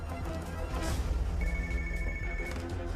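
A telephone rings out while a call to the ALX office goes through, with a repeating electronic ring tone heard mid-clip, fairly clear over a low background hum and no speech.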